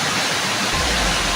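Fresh spring water runs downhill in a steady, close hiss and rush, and a deeper low roar joins in partway through.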